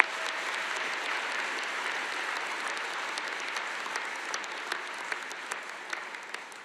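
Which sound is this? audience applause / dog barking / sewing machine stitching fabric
audience applause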